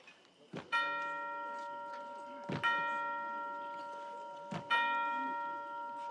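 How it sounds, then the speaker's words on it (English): A bell at a city gate is rung three times, each pull giving a sharp clang that leaves a long, clear ringing tone; the strikes are evenly spaced and heard alone, with no talking. "Who rang that bell?"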